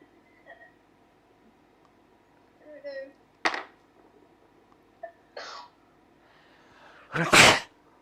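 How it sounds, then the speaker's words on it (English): A person sneezes loudly and close by, a sharp burst near the end that follows a few quieter throat sounds and brief noises, at an indoor camp session. "She actually sneezed."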